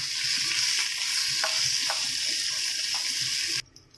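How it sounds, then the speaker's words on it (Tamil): Black urad dal roasting in a pan on a low flame for chutney: a continuous close hiss and crackle broken by a few light stirring scrapes, cutting off abruptly near the end. "உளுந்து நல்லா வாசம் வர வரைக்கும் லோ ஃப்ளேம்லேயே தான் வறுத்துக்கிடணும்"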